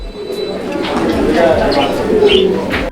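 Pet pigeons coo in soft, repeated throaty calls close by, with someone speaking over them.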